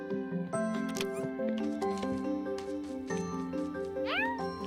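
A cat in the video game Staxel meows in a few high, wavering calls over cheerful in-game music and chimes, fairly close and clear, ending in a rising yowl.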